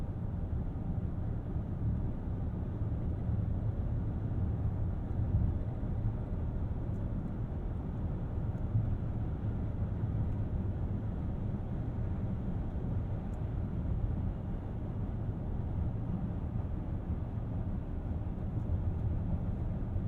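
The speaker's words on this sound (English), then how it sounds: "Yeah, you get some of the wind, tire, and road noise, but they're really kept minimal." Inside a 2023 Volvo XC90 Recharge plug-in hybrid SUV cruising at speed in hybrid mode, a low, steady hum of wind, tire and road noise holds at an even, muted level throughout, with no talk.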